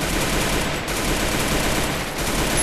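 In the mobile shooter Garena Free Fire, a dense, continuous burst of rapid automatic gunfire plays loud and close, with no break for the whole stretch.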